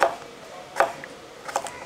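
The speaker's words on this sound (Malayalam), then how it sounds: "ഒരു ചെറിയ തേങ്ങയുടെ ഒരു 1/3 ഭാഗം നമുക്കത് ഇതുപോലെ കനം കുറച്ചങ്ങോട്ട് അരിയണം" A knife thinly slicing a small piece of coconut on a board, three separate crisp cutting taps spaced apart, close and alone.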